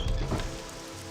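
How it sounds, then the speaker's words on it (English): Steady rain falls in the fantasy game Morrowind, a dense, even hiss of drops that holds loud and unbroken for a brief second with no voices. "Rain again."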